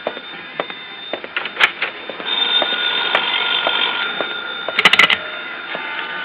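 A telephone rings with a bright, steady tone that is repeated, with a few knocks and a louder burst near the end.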